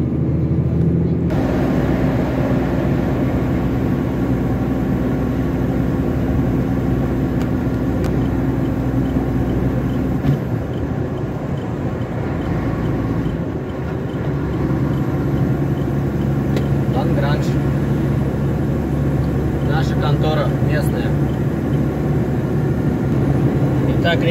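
A KAMAZ truck engine drones steadily while the truck drives on, a loud, continuous low rumble that holds throughout with only slight dips.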